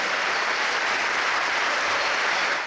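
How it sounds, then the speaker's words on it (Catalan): Audience applause fills the basketball tournament ceremony in Sant Julià de Vilatorta, a steady dense wash of clapping with no voices above it. "Un aplaudiment, gràcies pel que ens heu donat i comptem amb vosaltres molts més anys."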